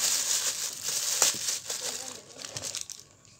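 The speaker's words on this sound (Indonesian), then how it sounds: "buka packingnya, isinya gini guys" Plastic parcel packaging is torn open and crumpled, giving close, dense crinkling and rustling that continues for a few seconds, then thins out toward the end.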